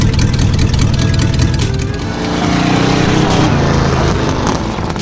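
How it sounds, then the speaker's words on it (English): V8 hot rod engines rumble and idle on a beach in the Devon dunes, a loud deep throbbing burble with a brief dip and swelling revs. "V8s rumble."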